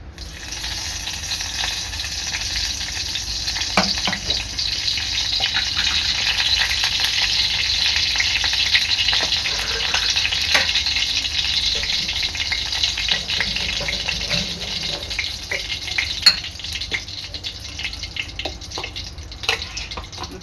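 Curry leaves sizzle in hot oil in a kadhai for tempering, giving a steady, bright crackle and hiss that lasts throughout with occasional sharper pops and stirring sounds.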